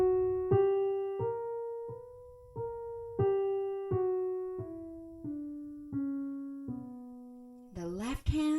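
B harmonic minor scale played on piano, eight single notes struck one by one at a steady pace, each ringing clearly and close, with a brief final flourish at the end.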